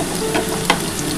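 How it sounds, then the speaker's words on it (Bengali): Chopped onion frying with potatoes in a pan for a Bengali jackfruit curry, a steady close sizzle with a couple of soft stirring scrapes, no talk. "আলুর সাথে পেঁয়াজটা একটু ভাজবো"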